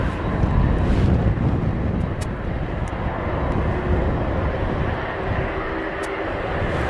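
A Boeing 767 airliner at East Midlands Airport, heard as a steady loud jet engine roar with broadband rushing noise and some wind buffeting on the microphone, sustained throughout without talk.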